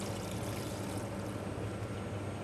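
Cold water pours steadily into a stock pot filled with vegetable scraps such as carrots, bay leaves, parsley and thyme, making a continuous, fairly quiet rush with no voices.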